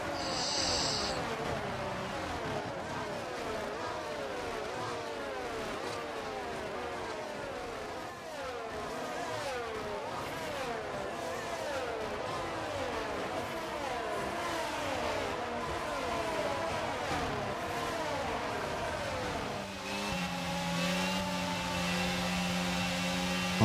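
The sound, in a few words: F1 race car engine during formation lap, from F1 22 video game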